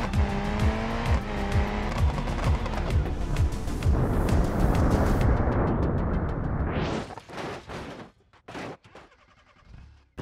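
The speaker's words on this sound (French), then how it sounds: "On va essayer avec cette voiture de rallye," A rally car in the BeamNG video game races flat out, its engine screaming through rising and falling revs with tire squeal, then cutting off into a few sharp crashing impacts near the end.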